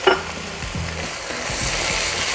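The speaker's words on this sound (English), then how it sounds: "Oh, hear that sizzle." Trader Joe's pizza meatballs sizzling in a pan as they are turned and coated in sauce; a close, steady frying hiss with a few soft scrapes and bumps of stirring.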